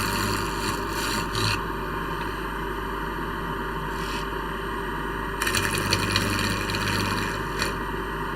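Skew chisel cutting wood on a lathe during production woodturning, a steady hum of the spinning lathe beneath scraping, rubbing cuts that swell into louder rough bursts near the start and again later.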